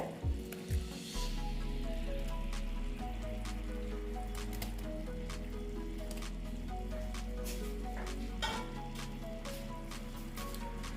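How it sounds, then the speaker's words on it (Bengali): Soft plops and a wet squish as dhoka lentil cakes drop into a boiling curry gravy for egg and potato dhoka dalna, followed by steady simmering beneath a continuous tonal background. "আমি এই যে ধোকারগুলো যে বানিয়েছি এগুলো দিয়ে দিচ্ছি"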